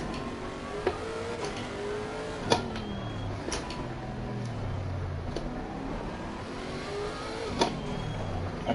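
Car engine in the racing video game Assetto Corsa Competizione, played on PS4 in a race, droning steadily and rising in pitch as it accelerates, with a few brief clicks and shifts over the continuous engine noise.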